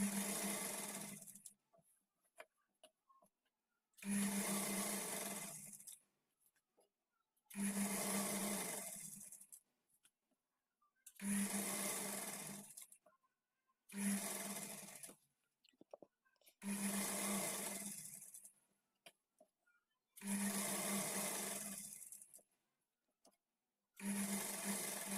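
A tailoring sewing machine stitches a fall onto the edge of a saree. It runs in about eight bursts of steady whirring, each lasting a couple of seconds and separated by short silent pauses, at close range.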